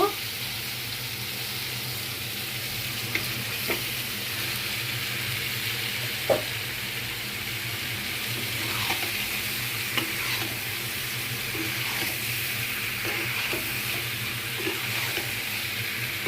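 Fried vegetables being stirred into a spice paste sizzling in oil for a ridge gourd and prawn curry, a steady hissing fry with scattered scraping stir clicks throughout, close and alone.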